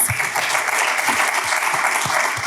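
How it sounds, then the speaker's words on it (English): Audience applause at a development finance event on Africa, a dense, even clapping from a crowd that continues steadily for the whole stretch, with no voices over it. "Can we give that a round of applause?"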